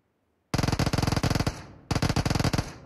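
Two rapid bursts of loud, close gunfire, each a string of sharp evenly spaced shots, break out of near silence with a short pause between them.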